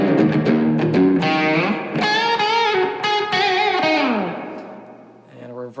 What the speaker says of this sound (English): Plate reverb. It's kind of like a studio reverb.